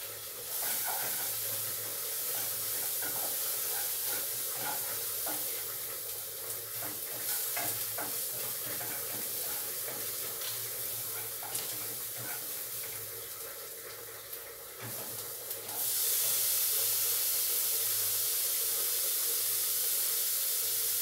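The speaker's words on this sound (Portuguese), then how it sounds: "Dando uma murchadinha na cebola aqui com azeite, só com azeite só" Onion, carrot and rice sautéing in olive oil in a pot, a continuous close sizzle with spoon stirring and clinks, then a louder rush of running water near the end.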